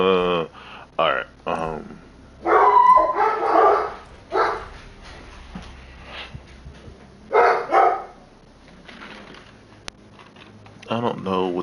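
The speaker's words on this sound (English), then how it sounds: "I don't know what the dogs are barking for." Dogs barking on a morning outdoors, several sharp bursts of loud barks and yips between stretches of quiet, with a voice nearby at times.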